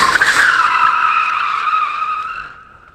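BMW E36 drift car sliding on the e-brake, a loud close tire squeal that starts sharp and slowly fades over a few seconds, with no engine roar or talk over it.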